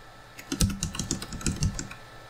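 Quick, uneven keystrokes clatter on the keyboard of a 1989 Amstrad ALT-286 laptop, about a dozen close, crisp clicks in a short burst with no talking.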